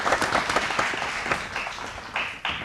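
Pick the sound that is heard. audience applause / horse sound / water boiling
audience applause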